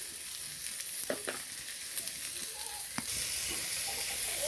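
Whole spices (fenugreek, fennel, coriander seeds and dried chilli) frying in hot oil, giving a steady close sizzle with a few sharp pops and crackles throughout.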